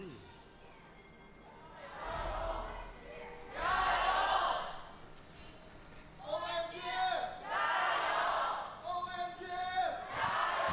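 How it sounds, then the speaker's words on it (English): Crowd in an esports arena at an LPL Summer 2024 League of Legends match cheering in loud rising waves, with quieter stretches between them and casters talking throughout. "You can hear the moment that the crowd is faded in there."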